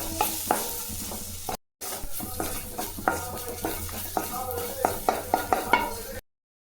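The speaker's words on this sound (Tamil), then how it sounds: "இது நல்லா செவந்து வர வரையும் வறுத்து எடுத்துக்கலாம்." Crushed garlic cloves, about twenty, frying in a pan for a lentil spice powder, with a steady sizzle under repeated close clinks and scrapes of a spoon stirring, broken by a brief silence partway through.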